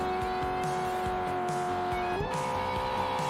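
A DeLorean DMC lapping in the Drift Stage racing game sends out a steady, loud engine drone with repeated pulsing shifts in rhythm. The pitch climbs sharply near the middle as it revs higher.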